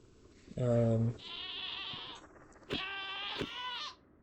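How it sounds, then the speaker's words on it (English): A goat in Minecraft (FTB Skies 2 modpack) bleats several times: a loud, low, nasal cry, then higher wavering bleats, with a short pause in between. "Oh no, there's the goat again."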